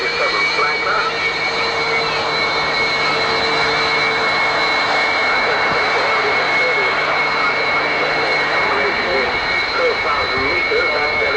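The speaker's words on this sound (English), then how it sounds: "that's the large component of the current Soviet fighter capability. The Sukhoi Su-27 flanker" A Sukhoi Su-27 Flanker fighter jet flies at the Farnborough Air Show, its engines producing a steady, loud whining roar with piercing high tones throughout, while an announcer talks over it.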